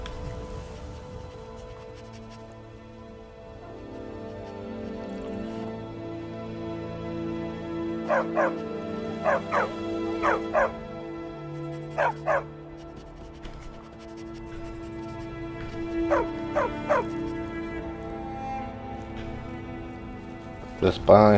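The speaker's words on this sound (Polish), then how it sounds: "Znalazłem jakiegoś psa." A dog in the video game Skyrim gives a series of short barks and yips in scattered bursts over game music and ambience, while someone talks throughout.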